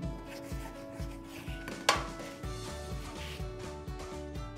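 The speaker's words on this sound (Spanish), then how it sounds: "Para eso tenemos un pan chato que lo vamos a cortar" A knife cuts through flatbread into triangles for serving with hummus, making a steady series of close, rhythmic rasping strokes with one sharper crunch partway through.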